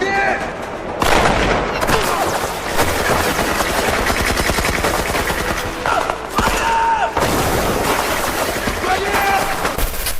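Rapid machine gun bursts and scattered gunshots rattle through a battle scene in a war film about American and Chinese soldiers, loud and almost continuous, with a voice talking over the fire.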